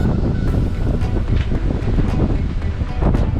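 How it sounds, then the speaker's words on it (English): Strong wind roars over a sailing boat moving under bare poles with no engines, a loud, constant buffeting rush close to the microphone with gusty surges and a hint of water beneath, no talking. "That means there's a lot of wind."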